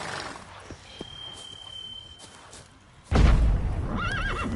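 Roach, the horse in The Witcher 3: Blood and Wine, lets out a loud, close whinny that rises and wavers near the end, after a stretch of quieter hoof and ambient game sounds.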